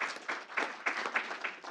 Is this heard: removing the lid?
no